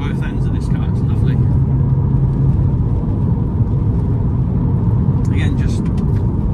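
A VW Golf R32 engine and exhaust drone steadily from inside the cabin, a loud, even low rumble with a faint whir on top.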